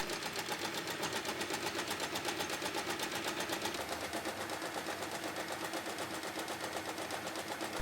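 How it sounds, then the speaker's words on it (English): A sewing machine runs steadily and close, top stitching along the edges of a fabric tote bag handle, with a fast, even needle rhythm that continues unbroken throughout with no talking. "the next step is to top stitch along both edges to keep everything flat and sturdy"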